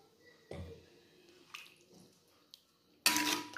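Chicken stirred in a pan with oyster sauce while cooking shredded chicken, a few separate scraping clatters and a sizzling splash of liquid against the metal pan, close up and spaced apart with quiet gaps between.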